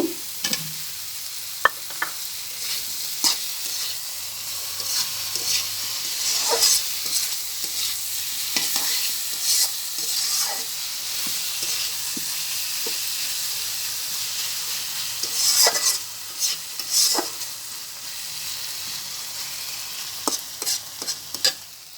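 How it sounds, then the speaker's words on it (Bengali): Tomatoes stir-fried with spices and chili powder in a pan for a Baile fish curry, giving a steady sizzle and hiss broken by repeated scraping stirs of the spatula. It sounds close and moderately loud, with no talking. "এবার দিয়ে দিচ্ছি টমেটো"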